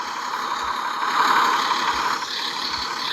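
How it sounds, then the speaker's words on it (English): A diesel engine idling nearby, giving a steady, unbroken mechanical drone with a faint rattle and a few low thumps throughout. "This is the diesel."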